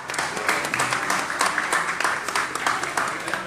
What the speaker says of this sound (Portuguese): Vamos bater palmas aqui,